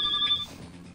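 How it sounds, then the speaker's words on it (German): A short electronic telephone ring with a high steady tone is heard over a quiet background, cutting off partway through. "Telefon."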